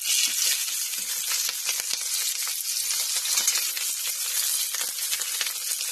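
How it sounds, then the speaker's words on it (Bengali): Chopped onions and chillies hit hot oil in a wok and sizzle loudly and steadily throughout, a dense, crackling fry with no voices. "পেঁয়াজ আর লঙ্কাটা কড়াই ছেড়ে দিলাম।"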